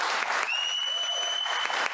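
Sustained applause fills a parliament chamber, steady clapping from many hands throughout, with a faint held tone sliding in partway through.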